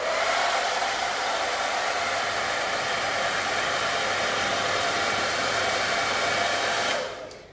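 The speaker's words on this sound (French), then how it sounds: "Est-ce qu'il fait beaucoup de bruit déjà?" A Philips DryCare hair dryer blowing at high heat gives a loud, steady, close-up rushing whoosh for about seven seconds, then winds down at the end when switched off.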